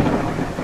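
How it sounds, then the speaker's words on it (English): Rain and rolling thunder in a horror video game, a dense steady wash of downpour with low rumbling underneath, loud and continuous with no voices. "Let the rain fall down!"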